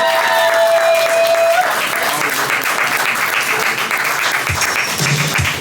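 Poetry slam crowd applauding a poet, loud, dense clapping from an indoor audience with a few shouts and cheers mixed in, sustained for the whole stretch.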